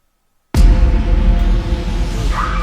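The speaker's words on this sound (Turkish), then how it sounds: "Kapı kendi kendine açılıyor." In a horror short film, a door opens by itself after silence, with a sudden loud onset followed by a sustained dark, rumbling drone and a faint creak near the end.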